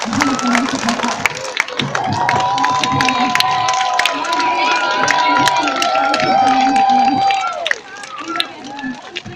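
Crowd at a sea lion show cheering, shouting and clapping, a dense, loud, continuous roar with a host's voice over it, easing off near the end.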